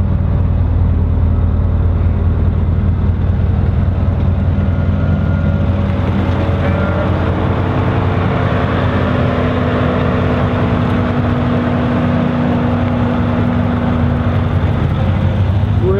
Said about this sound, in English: did you hear how throaty that exhaust was? It was so throaty. It was pure V8.